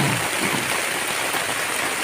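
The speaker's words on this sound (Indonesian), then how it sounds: "Ini udah diguyur lagi, tambah lebat lagi" Heavy rain pours steadily over a campsite in a dense, unbroken hiss, loud and close, with no voices.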